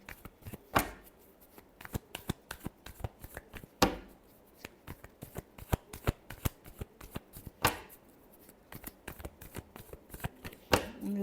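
Tarot cards being shuffled by hand, a steady run of crisp riffling flicks and soft slaps with a few louder bursts of riffle, close and fairly quiet with no talking.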